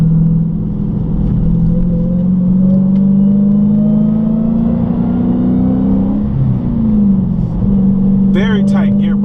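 A loud engine drone from a manual Dodge Challenger Hellcat, rising steadily in pitch as the car accelerates, dipping briefly on a gear change, then climbing again, with a voice at the end.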